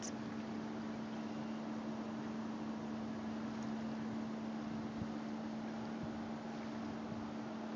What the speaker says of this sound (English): I hear the engine.